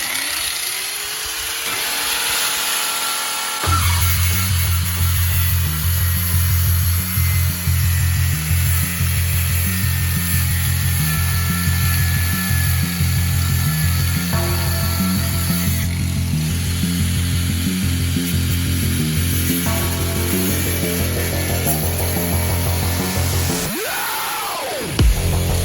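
Power tool removing drop links on an FN2 Honda Civic Type R during a lowering spring install: a long, steady, loud mechanical whirr with ratcheting pulses, running about twenty seconds before winding down.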